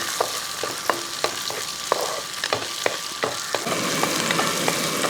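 Small shallots sauté in a pan and are stirred, a continuous sizzle broken by regular sharp clicks of a spoon against the pan.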